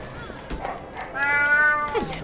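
A cat in the video game Alice Madness Returns gives a single drawn-out meow that rises and falls, loud and close, heard alone.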